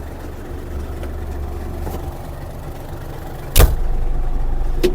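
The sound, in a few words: Yanmar AF-333 mini tractor driveshaft and gearbox running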